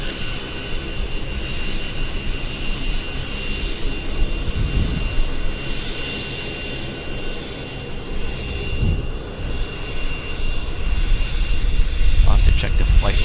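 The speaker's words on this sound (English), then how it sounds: "We got a United Airlines taxiing out in front of us." United Airlines Airbus A320 taxiing at Vancouver Airport, a steady whining jet engine drone at moderate distance, continuous throughout with people talking over it.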